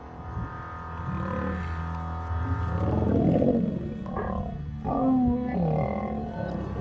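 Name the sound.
lion roaring while fighting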